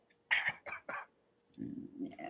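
A few sharp, harsh coughs close by, followed by a lower rough rumble that trails into a throat-clearing sound.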